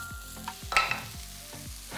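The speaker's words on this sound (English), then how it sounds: "Start with my onion in there. Get that going. Cook our onion a little bit." Chopped onion fries in a pan and is stirred, giving a steady soft sizzle broken by repeated scraping strokes of a utensil at close range, with no talking.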